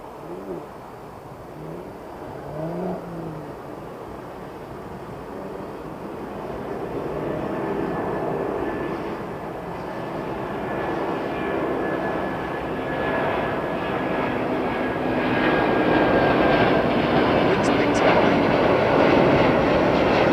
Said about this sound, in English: that was Swiss Air's 330